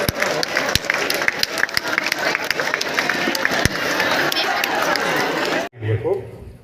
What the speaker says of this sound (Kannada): ಚಪ್ಪಾಳೆಯೊಂದಿಗೆ ಅವನನ್ನ ಸ್ವಾಗತಿಸ್ಕೋಬೇಕು ಎಲ್ಲ ವಿದ್ಯಾರ್ಥಿನಿಯರು.